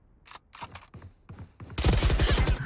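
Gunfire in the tactical shooter Valorant during a pro esports match: a few sharp shots spaced apart, then a dense, loud burst of rapid fire near the end, with no voices.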